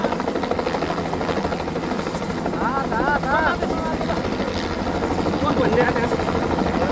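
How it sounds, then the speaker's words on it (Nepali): Helicopter flying over flood-hit Rasuwa, Nepal, a steady rotor and engine drone running loud and continuous throughout, with people talking over it. "भाइ बहिनीले त हेलिकप्टर चढ्नु पायो"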